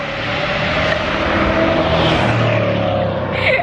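A car passes loudly and close by, a broad steady engine roar that swells and holds for a few seconds before beginning to fade.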